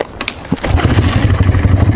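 A Honda XR200R single-cylinder motorcycle idles just after a cold start, thumping close and loud in a fast, slightly uneven rhythm after a couple of brief clatters at the start.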